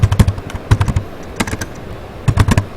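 Brisk clatter of keys on a computer keyboard as a configuration command is entered in a Linux kernel source folder, played in three quick bursts separated by short pauses, close and fairly loud.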